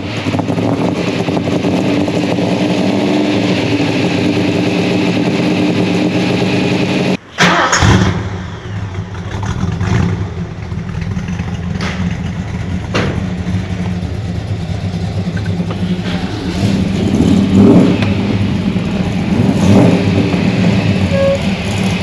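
A Ford muscle car starts and settles into a rough, rumbling idle, then after a sharp break the engine revs up and it drives off, the loud exhaust growing and surging in repeated bursts.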